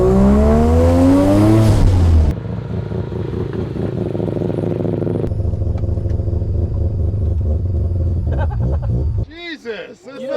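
A rotary-engined race car launches hard alongside a Ferrari, its engine note loud and close, climbing and shifting through gears before settling into a steady drone, with a sharp change near the end.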